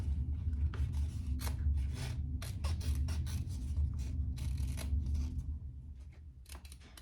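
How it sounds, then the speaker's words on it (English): Sharp sewing scissors snip through waxed canvas close up, a run of short rasping cuts in an irregular rhythm, some quick and clustered, fading slightly toward the end. "Don't cut into your stitches, so I have some really sharp scissors."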